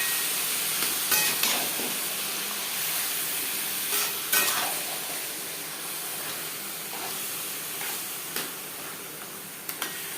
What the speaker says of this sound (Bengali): মশলার সাথে বেশ ভালো করে মিক্স করে দেবো।